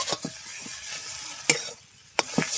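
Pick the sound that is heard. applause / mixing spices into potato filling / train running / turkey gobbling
mixing spices into potato filling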